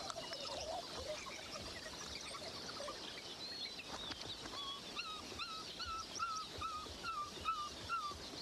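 African wild dog pups in a Serengeti den give thin, plaintive whimpering cries, a series of faint, high, wavering calls repeating over a steady outdoor background.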